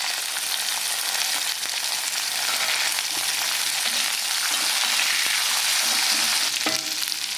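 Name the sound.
dal, onion and chili sautéing in oil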